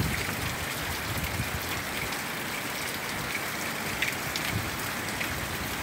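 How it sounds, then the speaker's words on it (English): Steady rain pours off the roof of a house with no gutters, a dense, continuous patter and splash with no voices. "But it is raining."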